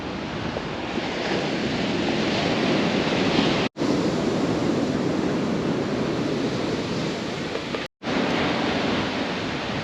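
Ocean surf breaking on the beach at Tangalle, Sri Lanka, a loud continuous wash of powerful waves with wind buffeting, broken by two brief dropouts.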